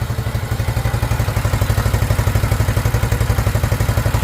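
A 1972 Honda XL250 motorcycle engine runs after a top-end rebuild, with a steady rapid idle thump and mechanical clatter, close and loud throughout.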